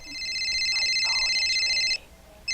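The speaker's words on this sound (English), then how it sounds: "My phone is ringing. I have to answer it." A phone ringing with a loud, steady electronic trill that holds for about two seconds, stops briefly, then starts again, with faint background sounds underneath.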